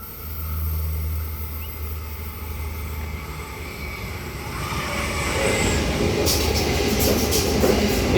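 A 4-car commuter train pulls into Como station, a steady rumble of wheels on rail growing louder as it nears, with rising clatter and a faint high squeal toward the end; no talk.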